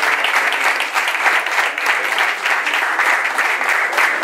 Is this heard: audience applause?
yes